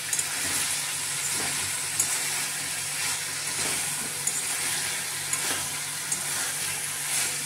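Soybean chunks fry in a pan over a constant hiss while being worked, with repeated scrapes and small clinks from stirring scattered across the span; close, fairly loud, no talking.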